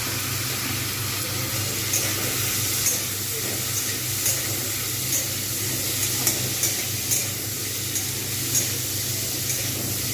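Sliced carrots sizzle and hiss in a hot pan for restaurant-style chow mein, a steady frying crackle with faint occasional stirring clicks.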